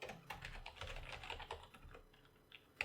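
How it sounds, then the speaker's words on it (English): Close, quiet typing on a computer keyboard while writing HTML code, a quick run of light key clicks with brief pauses and one sharper tap near the end. "and we'll type in Manhart."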